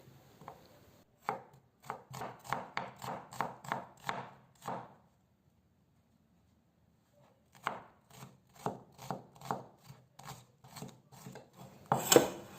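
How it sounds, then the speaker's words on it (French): A knife chops an onion into small cubes on a board, with two bursts of rapid, even, close taps separated by a pause of silence and a louder cluster of cuts at the end. "Je vais commencer par couper l'oignon en petits cubes"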